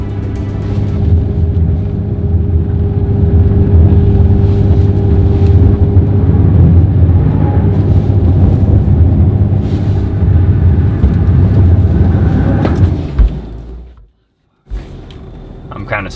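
A van engine chugs and labours up steep Guatemalan hills in first gear, giving a loud, strained low drone that continues for about thirteen seconds before cutting out, then resumes more quietly.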